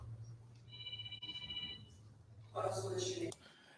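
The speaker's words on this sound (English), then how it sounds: "Somebody's phone was ringing there." A mobile phone rings faintly in a council meeting room with repeated electronic tones, then a louder burst near the end, under low background voices and room hum.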